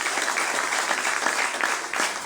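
A church congregation breaks into applause, a dense, close patter of many hands clapping that carries on without pause, with faint voices mixed in.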